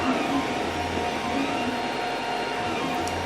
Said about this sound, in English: The motion of the printer is not as noisy as all the fans, and it's working pretty well for now.